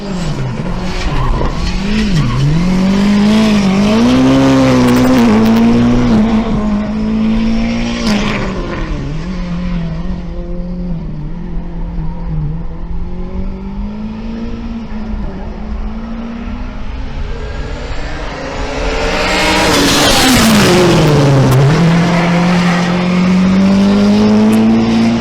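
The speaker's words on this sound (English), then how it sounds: "track day 2 already sounds much better, so it sounds like a race car" A race car engine with anti-lag howls on a track day, revs rising and falling through gear changes and corners, with a loud surge near the end; close and continuous.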